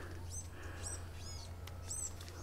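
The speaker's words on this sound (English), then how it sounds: "Birds are chirping." Several short, bright bird chirps repeat in quick bursts from a tree at Bok Tower Gardens, over a low steady background hum, fairly close and clear.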